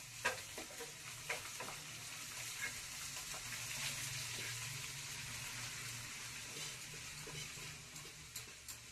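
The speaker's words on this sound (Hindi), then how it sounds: "चलिए मेरा मसाला भी पक गया है। अब मैं इसमें डाल दूंगी मेथी।" Fenugreek leaves hitting hot cooked masala in a home kitchen pan give a steady, loud sizzle, with stirring scrapes and small clinks throughout and no talking.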